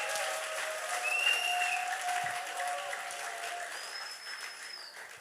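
A church congregation applauds the Lord, a sustained round of clapping from a crowd with faint tonal sounds running through it.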